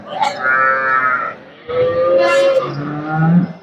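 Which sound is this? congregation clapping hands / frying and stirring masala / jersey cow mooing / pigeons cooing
jersey cow mooing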